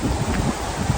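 Strong, steady wind buffeting the microphone with a constant low roar and rustling at a farm campsite, no voices heard.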